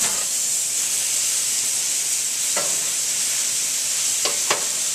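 Marinated London broil beef on a preheated gas grill gives a steady, close, loud sizzling hiss that runs the whole time, with a few short sharp clicks or scrapes near the end.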